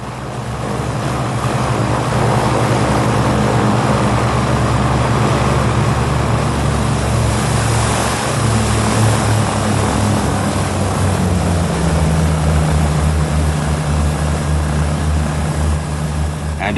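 Four propeller aircraft engines drone steadily and loudly throughout, a thick continuous hum with a shifting low tone near the end.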